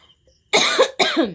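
Two loud, close coughs in quick succession from one person, each a sharp burst followed by a rasping tail, after a brief quiet start.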